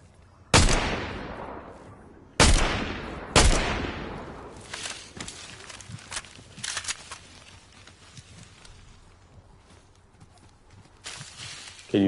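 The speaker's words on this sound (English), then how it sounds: "there's four down here shooting each other" Gunfire from players shooting each other in a Fortnite match: three sharp loud shots near the start, then scattered fainter pops and crackle trailing off, with no talk.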